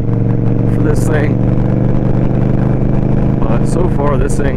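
A 2023 Indian Scout Rogue motorcycle with GP Shorty exhausts idles with a loud, steady, deep engine rumble, while a person talks over it.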